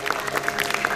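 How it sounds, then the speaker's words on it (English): A tech summit audience applauds in a brief, moderately faint burst of scattered claps. "A round of applause, guys."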